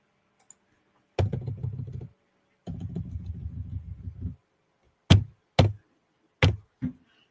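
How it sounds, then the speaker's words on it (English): Keys on a computer keyboard clatter in two bursts of rapid typing, close and loud, followed by four separate heavy keystrokes with pauses between them. "that's loud when you hit the keys."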